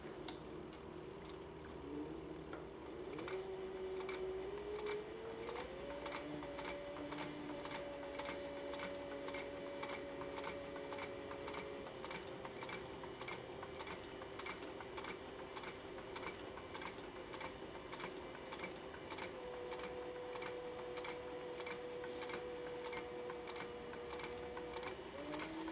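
Sewing machine running steadily while stitching the length of a cross body sling bag after a couple of back stitches, a fast continuous mechanical patter with a droning motor tone, close and alone throughout.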